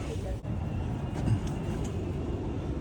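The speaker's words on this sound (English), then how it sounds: "The train just started inexplicably moving" An Amtrak Auto Train begins to roll, a steady low rumble and rattle of rail cars heard from inside, continuous and moderately loud with no clear talk.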